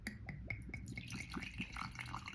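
Wine poured in a small amount into a crystal glass, a gentle trickling and gurgling pour with soft drips, close and fairly quiet, with no talking.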